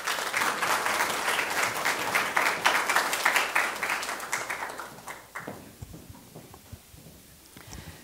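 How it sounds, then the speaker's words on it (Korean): An audience at a Seoul National University presentation competition opening claps warmly to welcome a speaker, dense applause that thins out and fades into scattered claps over several seconds. "따뜻한 박수로 맞이해 주십시오."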